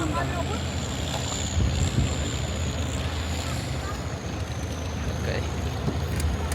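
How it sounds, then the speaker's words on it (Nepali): A boat engine drones steadily under wind and water noise off Phi Phi Island, Thailand, with people talking over the rumble. "बोट त ट्र्याक्टर जस्तै छ नि फेरि यस्तो हुन्छ फेरि"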